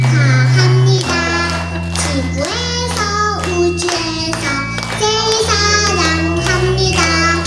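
Guests at a 60th-birthday banquet for Dalseong Elementary's 51st class at the Hotel Inter-Burgo in Daegu clap in rhythm along with loud, sustained music and singing, the beats cutting through the melody.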